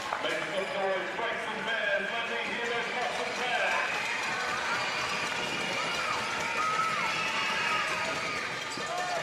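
Crowd at a youth league basketball grand final, Frankston against Camberwell, jeering a free-throw shooter: a steady wash of crowd noise with scattered shouts and whistles, running under continuous commentary.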